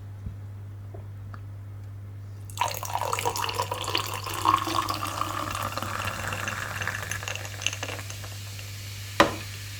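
Fanta Berry soda pours steadily into a glass with a fizzing, splashing hiss, lasting several seconds over a low steady hum, ending with a light clink.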